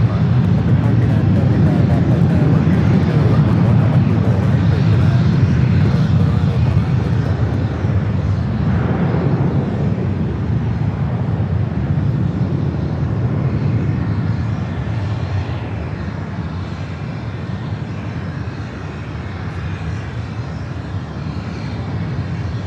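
A jet airliner rolls down runway 24 left at LAX, its engine noise a loud, broad, sustained rumble that gradually eases, with faint radio chatter underneath.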